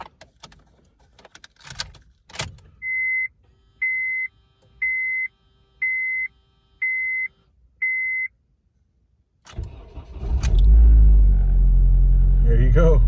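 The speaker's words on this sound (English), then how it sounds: "we're going to start it. So hopefully it's going to start." A 2006–2011 Honda Civic with a newly replaced starter gives six evenly spaced electronic beeps, then after a short silence its engine cranks and catches, settling into a loud, steady idle close by.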